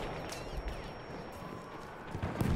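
A horse galloping in the war game Battlefield 1, a rapid clip-clop of hooves under a busy wash of battlefield noise, growing a little louder and heavier toward the end.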